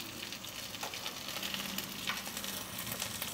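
Onions and curry leaves sizzle and fry in a pan while being stirred, a steady close crackling hiss with occasional scrapes of the spoon and no talk.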